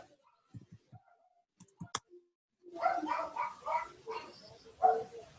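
Several dogs bark in a rapid, fairly loud cluster toward the end, after a stretch of scattered clicks and quiet sounds.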